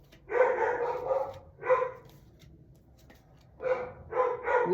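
Several dogs bark in short repeated bursts, two clusters separated by a quiet gap, fairly close and moderately loud with no talking.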